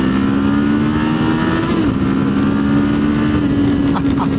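A Kawasaki KLE500 adventure motorcycle's engine drones steadily while riding, one small dip and rise in revs midway, close and loud with wind rush over it.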